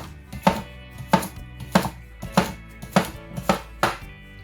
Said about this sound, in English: So the reason I'm cutting it just to aid my blender.